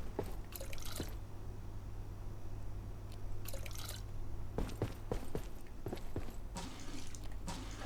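Watering crops in the game Abiotic Factor: splashy bursts of water spray arrive in several short clusters, moderately loud over a steady low hum, with brief gaps of quiet between pours.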